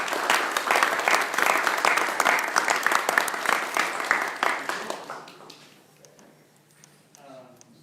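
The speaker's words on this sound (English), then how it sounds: "Please give them a round of applause." An audience at a medical residency talk applauds as two doctors are welcomed to the stage, with dense clapping for about five seconds that thins out and dies away, followed by faint voices.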